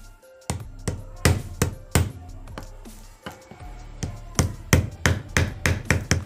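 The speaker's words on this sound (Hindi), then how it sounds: "आस्ते ठोकना है तो फिर एक बार जो ठोकते हैं" A hammer gently taps a part into place on a Chinese bicycle air pump under repair, with a series of sharp metallic knocks, starting spaced out and then quickening into a steady run of blows.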